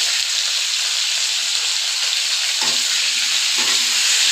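Potato and cauliflower pieces seasoned with turmeric and salt fry in hot oil with a steady, close sizzle, broken twice by brief scraping stirs of the pan.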